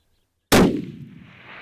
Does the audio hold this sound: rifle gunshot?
yes